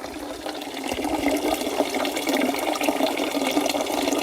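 Water pours steadily from a newly appeared drinking-water spring, a continuous close splashing rush with no break.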